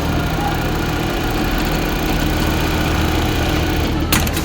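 A Brother eyelet buttonhole sewing machine, which has a fault that makes it skip stitches, runs steadily while stitching fabric, giving a continuous close mechanical hum and vibration. A brief clatter comes near the end, and no voices are heard.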